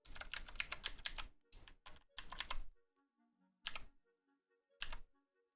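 Bursts of typing on a computer keyboard, a fast run of close, crisp keystrokes at first, then a few scattered short clusters separated by near silence.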